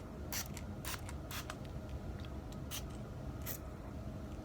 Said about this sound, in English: I'm going to simply spray your hair down with a bit of water